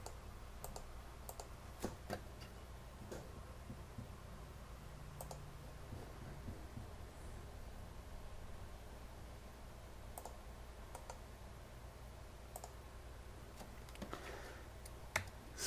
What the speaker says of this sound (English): We typed them in.